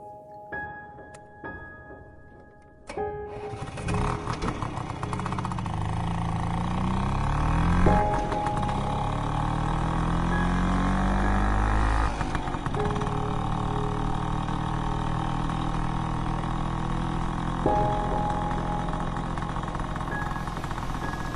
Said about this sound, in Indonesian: Kulajukan motor Vespaku di jalanan Bandung yang sudah mulai sepi.